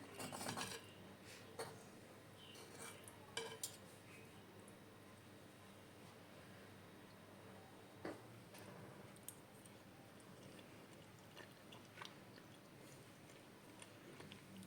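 Crunchy stewed morel mushrooms with cheese being chewed close up, soft irregular crunches and mouth sounds with occasional light clicks of cutlery, quiet and without talk.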